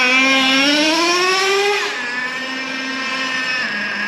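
A Traxxas Revo 3.3 nitro engine buzzes close and loud with a high, steady tone that sags slightly in pitch after a brief rise, then settles into an even idle with no talk over it.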